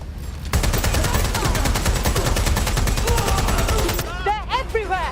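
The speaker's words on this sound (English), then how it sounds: "I'll cut you in half with this shotgun" Gunfire in Watch Dogs: Legion, heard as a loud, continuous rapid volley of shots that breaks off near the end into shouting voices.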